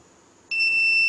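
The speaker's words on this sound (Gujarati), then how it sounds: "બઝર કન્ટિન્યુઅસ ચાલુ રહેશે" A high, steady electronic warning buzzer on a science-fair model railway bridge switches on abruptly after a quiet moment, signalling high water level, and keeps sounding without a break.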